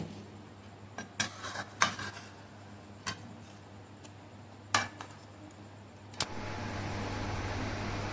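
A spoon stirs mixed tadka dal in a cooking pot, giving a few sharp, scattered clinks and scrapes against the metal at a low level, followed by a steady soft hiss.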